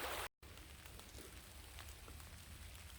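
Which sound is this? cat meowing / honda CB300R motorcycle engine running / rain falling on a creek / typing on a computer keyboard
rain falling on a creek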